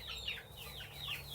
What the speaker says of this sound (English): those are adult chickens there